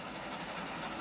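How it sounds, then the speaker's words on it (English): A train rolls along the tracks with a faint, steady rumbling hiss and soft rhythmic clatter, continuous and distant throughout the brief moment. "But Elmo's train keeps chugging along past the red station."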